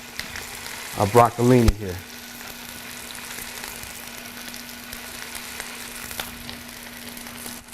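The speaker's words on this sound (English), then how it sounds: "So now we got a little bit of heat in our pan here, and we're just gonna lightly saute" Broccolini lightly sautéing in a hot pan gives a soft, steady sizzle with a faint hum underneath, while someone speaks briefly near the start.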